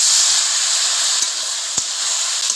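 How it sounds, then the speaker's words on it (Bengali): Water added to a hot pan of potato and bean curry gives a loud, steady steam hiss and sizzle, with two brief soft knocks partway through. "এখন আমি জল দিয়ে দেবো কিছুটা।"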